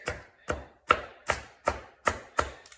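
Knife chopping cabbage on a cutting board for taco slaw: seven crisp, evenly spaced chops at a steady rhythm, close and clear, with no talking.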